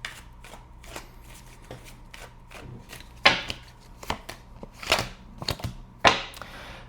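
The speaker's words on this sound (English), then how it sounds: "before I pull one oracle card for you" A deck of oracle cards gets shuffled up close, giving irregular papery slaps and riffles, some louder bursts standing out among softer flicks, with no speech.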